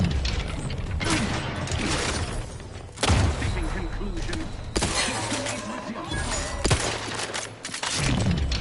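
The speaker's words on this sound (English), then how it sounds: "Grenade!" A grenade goes off in the sci-fi shooter Outer Worlds 2, a loud blast and crashing debris within dense, continuous combat noise. Sharp impacts land at intervals, and a player shouts over the action.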